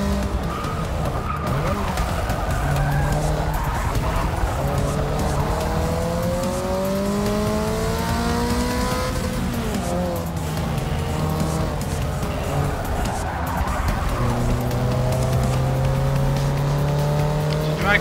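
Race cars roaring side by side in a Forza 6 drag race, engines climbing through gear shifts in rising whines, with tire squeal over a loud, continuous drone and a voice talking underneath.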